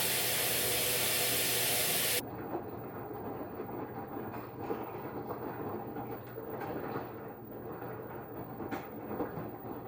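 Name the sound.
LG washer with water spraying into the drum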